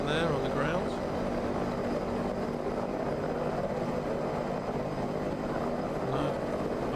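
An HPG Airbus H145 air ambulance helicopter in Microsoft Flight Simulator, on a HEMS mission near Welshpool, gives a steady, loud rotor-and-turbine drone throughout.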